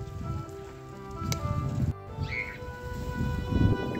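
Sudden rain falling at the seaside near the Carbis Bay railway bridge in St Ives, a steady broadband patter of drops that stays even throughout, with a faint bird chirp and no voices.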